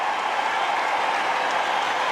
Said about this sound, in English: And his captain applauds him